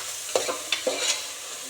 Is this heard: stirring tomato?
yes